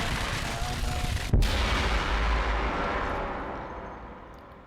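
A grenade blast in the VR game Exoshock: one sharp, loud booming burst that rolls out into a long fading rumble, set against steady background noise.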